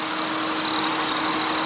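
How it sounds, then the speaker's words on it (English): A gray 2001 Honda Odyssey EX minivan's 3.5 liter V6 engine runs steadily and fairly loud with a constant hum and no voice. "I can rev this one up for you guys, so I'm going to be quiet and let you listen to the motor"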